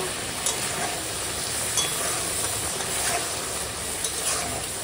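Mustard pabda fish curry being gently stirred after raw mustard oil is added, a continuous close bubbling sizzle with faint scraping strokes, no talk.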